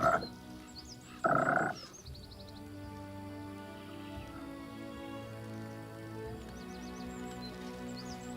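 Frogs croak in a swampy area of the fantasy video game Pathfinder: Kingmaker, with two loud croaks at the start over a steady ambient bed that has faint bird-like chirps.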